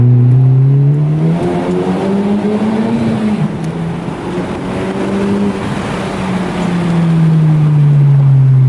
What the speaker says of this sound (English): We're gonna do a little pull through the tunnel so you guys can hear the exhaust.